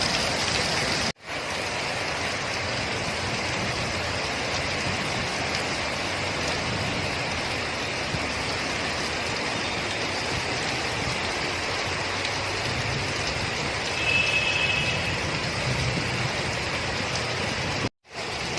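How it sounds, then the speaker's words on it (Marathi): Steady, heavy unseasonal rain pours continuously in Mumbai, a dense hiss with no talking, briefly dropping out twice. "अवकाळी पाऊस होता"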